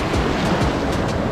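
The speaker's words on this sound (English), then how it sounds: "So with the waves crashing in" Ocean waves crash steadily onto a limestone shore at a tide pool on Isla Mujeres, Mexico, a loud continuous surf roar with repeated surges and no voices.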